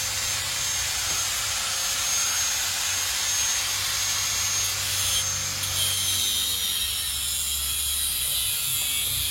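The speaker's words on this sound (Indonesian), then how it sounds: "Nah, ini untuk sisi yang satunya ini digerinda dulu." Grinder cutting the aluminium AC pipe fitting of a first-generation Toyota Vios Limo, a loud continuous high-pitched grinding whine that holds steady throughout.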